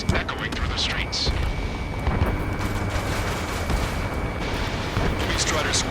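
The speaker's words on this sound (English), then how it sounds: "Gunfire and the roar of jets echoing through the streets." Dense, continuous rumble of gunfire and jet roar echoing through city streets under martial law in the Ace Combat 7 video game, booming steadily throughout with voices faintly mixed in.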